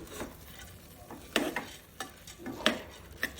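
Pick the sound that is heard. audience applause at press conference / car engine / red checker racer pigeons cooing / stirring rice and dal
stirring rice and dal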